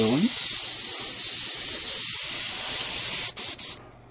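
Airbrush spraying a mix of acrylic thinner and lacquer makes a loud, steady, close hiss, then two short bursts before it cuts off at the end.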